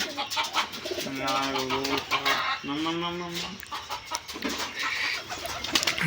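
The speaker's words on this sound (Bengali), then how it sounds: "সব পায়রা এখন নামানো হচ্ছে" Giribaj pigeons being brought down from flight give a few clear, throaty coos in short bursts near the mic, with rustling and a voice speaking in the background.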